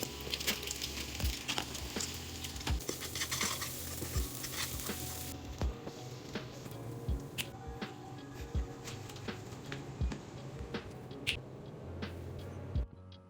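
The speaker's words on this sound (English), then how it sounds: "I am going to actually start cooking breakfast right now" Breakfast fries in a dorm kitchen, a continuous sizzle with scattered utensil taps and scrapes, quiet and close, the hiss dropping noticeably partway through.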